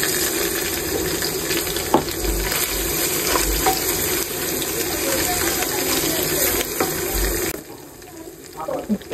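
Spices including chili, turmeric and coriander powder fry with winter vegetables in a pan, giving a steady loud sizzle and crackle with occasional stirring clinks, until the sound drops off sharply near the end.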